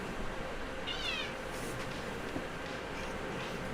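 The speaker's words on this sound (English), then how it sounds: "She's like a normal cat." A house cat gives one short meow partway through, close but fairly quiet, under a steady wash of broadband background noise.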